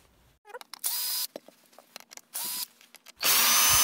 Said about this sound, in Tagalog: ang susunod nating baklasin ay itong electric kettle mismo dito sa ilalim